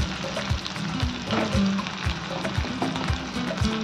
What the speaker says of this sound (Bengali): এবার আলুটা একটু ভালো করে এই মশলার সঙ্গে মিশিয়ে দিচ্ছি।